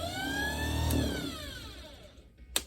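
Freshly oiled starter motor from a Ford Model A spinning up on its own, a whirring electric whine that rises in pitch and then winds down smoothly, followed by a couple of sharp clicks at the end.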